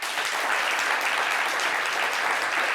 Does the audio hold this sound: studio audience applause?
yes